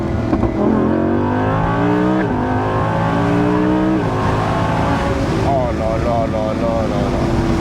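Sports car with a V10 engine, a Spider convertible, revving hard and loud, rising and falling through repeated sweeping pulls, close and continuous.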